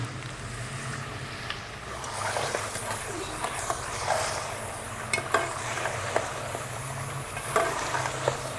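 A masala with plums and tamarind is stirred and fried for beef biryani, with a continuous soft sizzle and scattered clicks of the spoon against the pot, under a low steady hum.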